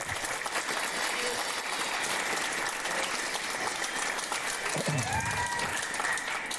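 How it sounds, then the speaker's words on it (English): A school audience of middle and high school students applauds a motivational speaker's guest, a steady, dense wash of clapping that holds at full strength from start to finish. "Clap it up for Jay."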